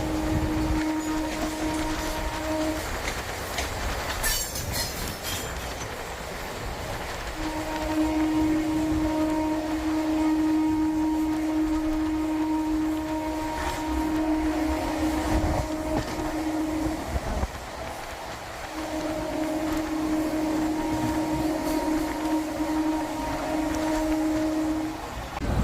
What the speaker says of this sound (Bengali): আমাদের ট্রেন সাঁতরাগাছি স্টেশন ছাড়ার পরে 66 কিলোমিটার পার আওয়ারে ছুটতে থাকলো।